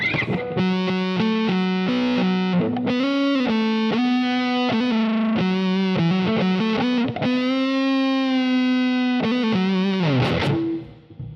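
An electric guitar through Native Instruments Guitar Rig plays a melodic riff with heavy distortion and effects, notes sustaining and sliding, loud and continuous before fading out at the end.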